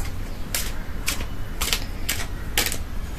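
Tarot cards being shuffled by hand, five quick crisp riffling bursts at a steady rhythm against a low background hum, close and fairly loud, with no talking.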